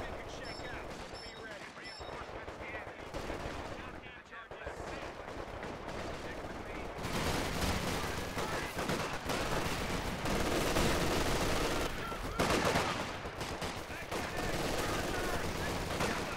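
Sustained automatic gunfire and heavy battlefield bursts in a war video game, with mortars and demolitions in play, growing denser and louder midway and continuing without pause under occasional talk.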